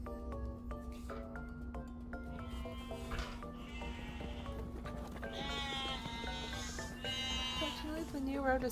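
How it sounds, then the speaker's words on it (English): Sheep bleat repeatedly in the video game Love and Deepspace, several wavering calls rising over a steady background hum and game music, with a horse-like whinny mixed in near the end. "Is that sheep I hear? Yep."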